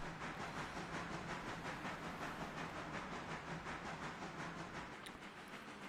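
A mogul steam locomotive hauls a string of cars down from the mountain in the Railroader video game, with a steady chuffing rhythm, hissing steam and clickety-clack of wheels running continuously and close throughout.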